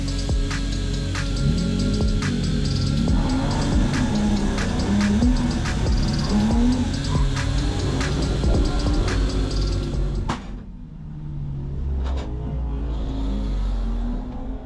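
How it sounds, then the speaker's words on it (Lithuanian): A drift car engine repeatedly bouncing off its rev limiter, a loud, continuous stuttering buzz for about ten seconds before it suddenly drops away to a quieter rumble. "girdžiu daug ribotuvų, tai reiškia, kad kažkas vis dar negerai"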